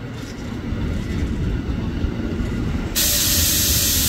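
A KRL Commuter Line electric train rolls into the upper level of Manggarai station with a steady low rumble and broad hissing, which jumps abruptly louder and brighter near the end.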